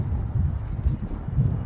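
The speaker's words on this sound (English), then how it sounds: "So pretty windy day out." Wind buffeting the microphone, a low, rumbling roar that swells and dips unevenly for a couple of seconds.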